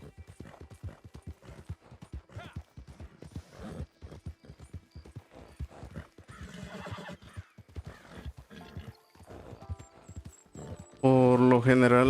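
Horse in the video game Red Dead Redemption Online, rhythmic galloping hoofbeats throughout, ending in a loud, loud whinny, with someone talking over the hooves.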